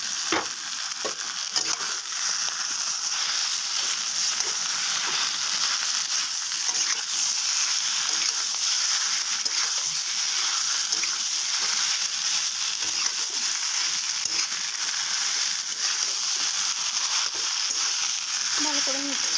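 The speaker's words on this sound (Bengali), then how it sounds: "মেখে রাখা আলুটা দিয়ে দেবো।" Seasoned potatoes frying in a pan for a potato and egg curry give a steady, loud, close sizzle and crackle that runs unbroken for the whole stretch, with no one talking.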